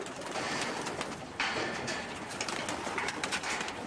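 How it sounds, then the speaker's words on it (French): Soft cooing from a Chinese black-headed tumbler pigeon kept as an ornamental bird in China, low murmuring calls heard close against a dense, noisy background of other birds and ambient bustle. "Celui-ci, c'est un culbutant chinois à la tête noire."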